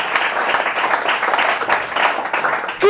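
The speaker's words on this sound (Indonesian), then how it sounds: "Berikan sorak-sorai buat Tuhan." Church congregation applauding and cheering for God during a sermon, a steady dense wash of clapping and crowd noise with no clear breaks across the whole stretch.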